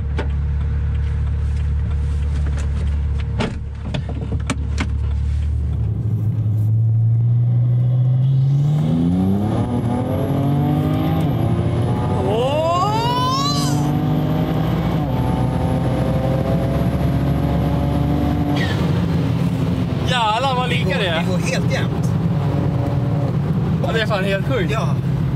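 A BMW 335i accelerates hard, its engine rising loud and close through rapid gear shifts, each change dropping the pitch before it climbs again, with people talking over the continuous road and engine roar.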